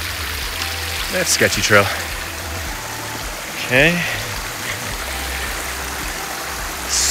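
Mountain stream water flows steadily beside a trail on the Mt Whitney hike in October, a constant broadband rush heard close by throughout, with a person speaking briefly over it and footsteps passing.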